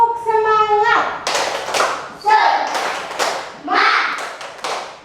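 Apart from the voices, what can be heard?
children doing rhythmic spirit clapping in classroom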